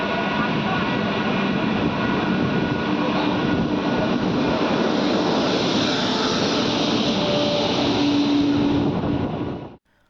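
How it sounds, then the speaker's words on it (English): A passenger train led by a WAP7 electric locomotive in 75th Republic Day livery rolls past, a steady loud broadband rumble of wheels and motors holding for about ten seconds before cutting off abruptly. "a passenger class of train overtaking a superfast"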